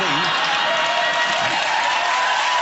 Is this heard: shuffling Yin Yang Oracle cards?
no